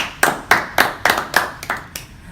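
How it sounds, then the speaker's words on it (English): A small group claps for a school tennis team, about eight distinct, evenly spaced claps, close and fairly sharp, with no voices. "Let's give a huge round of applause for tennis"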